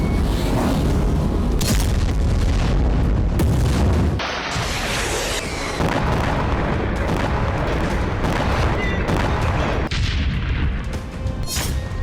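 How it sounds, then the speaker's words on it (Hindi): Explosions from bombardment in Gaza: heavy, continuous booms and blasts layered into a loud roaring din, with sudden sharp bursts and a brief lull partway through. "धमाकों का शोर अब और तेज होने वाला है।"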